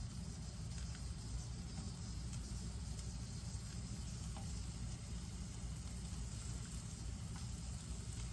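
Sausage pieces fry in a pan for a scramble, a faint, steady sizzle holding evenly throughout with no talking.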